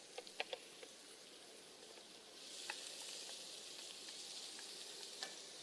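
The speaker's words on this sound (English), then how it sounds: "And you'll hear because they'll start to pop and sizzle, and you want that noise." Onions sizzling in hot oil for a stir fry at an outdoor food festival in Lagos, a steady crackling hiss with scattered sharp pops and stirring clicks that grow denser after a few seconds, with no talking.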